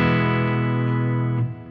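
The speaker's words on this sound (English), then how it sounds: "When I turn up and down that reverb," A sustained electric guitar chord rings out loud through a Boss Waza Tube Amp Expander, heavy reverb tail swelling and thinning as the reverb is turned up and down, before it cuts off near the end.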